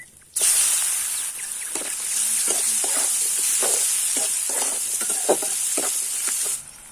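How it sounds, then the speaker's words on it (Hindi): Onion fries in hot oil with cumin and mustard seeds in a village-style kitchen, giving a loud, steady sizzle that starts abruptly and runs for several seconds, with occasional stirring scrapes and pops near the pan. "पियाज हल्का भाजी गला।"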